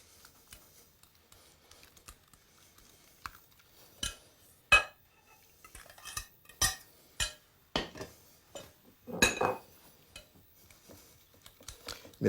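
Spoon clinking as cocoa dissolved in hot water is stirred into a pale cream for a strawberry-chocolate square: scattered, irregular taps and scrapes of utensil against bowl, close by and fairly soft, with no talking.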